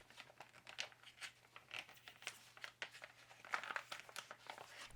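Plastic packaging bag for a stick-style product is torn and crinkled open by hand, with a steady run of close, quiet rustles and sharp crackling rips.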